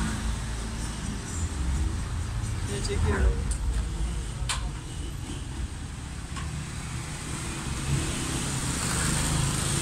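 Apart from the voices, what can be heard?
street traffic noise of cars and motorbikes in market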